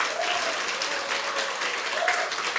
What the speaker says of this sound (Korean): 우리 아이들 박수 한번 주시겠어요?